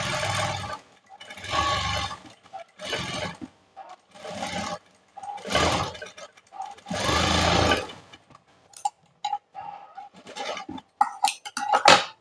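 A sewing machine stitches piping between two layers of fabric in repeated bursts of whirring, each lasting about a second, separated by short pauses, with scattered clicks and handling noises near the end; close and fairly loud.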